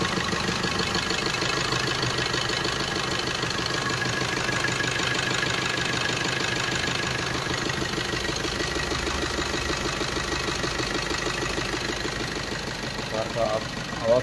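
A 1.3 diesel engine in an older Suzuki Brezza idles after a full overhaul, with a steady, even, close-up clatter and rumble that runs unchanged throughout.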